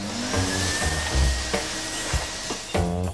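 A household vacuum cleaner sucks up a spread-on powder during a home makeover, a steady loud whooshing drone running throughout with brief shifts in pitch as the nozzle moves.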